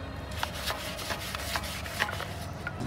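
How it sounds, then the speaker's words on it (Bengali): A soft brush scrubs the underside of a 160 4V motorcycle part during a cleaning job, making a steady close rasping rub with faint repeated strokes and no talk. "নিচের সাইডটা ব্রাশ দিয়ে ঘষে দেবো।"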